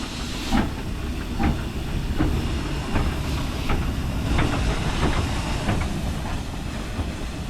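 A steam locomotive at a heritage railway station pulls away with rhythmic chuffs and steady hissing steam, the beats coming at a slow, even pace over a loud, continuous rush.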